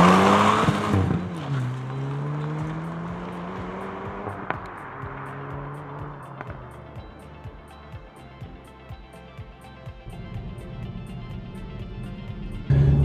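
A Hyundai i30N hot hatch pulls away hard, engine revving up through gears with a brief tire chirp, then a steady rising drone of the motor heard from inside the car.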